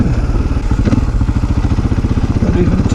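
A Husaberg enduro motorcycle engine thumps loud and close in a rapid, steady pulse on a snowy trail, with light clatter over the running engine.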